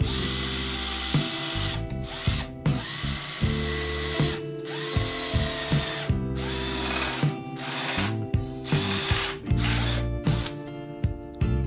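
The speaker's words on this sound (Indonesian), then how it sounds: "Coba kita lihat kemampuan dari SCD-12 ini untuk mengebor besi." Stanley SCD-12 cordless drill whirring in repeated bursts, revving up and stopping several times, with grinding and ratcheting as it bites into 2 mm steel plate, close and fairly loud.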